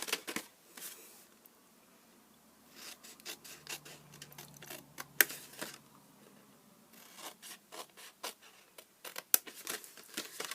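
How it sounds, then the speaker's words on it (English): Paper box being cut along its score lines, heard as intermittent scraping and snipping with a rustle of handled paper. The strokes are close and soft, come in irregular bursts, and no one speaks. "we're just going to cut in on all those score lines"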